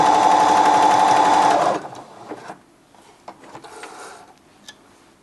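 Sewing machine running a zigzag stitch, a steady close whirring hum with a fast mechanical rhythm for under two seconds, then stopping and leaving faint clicks and handling noises.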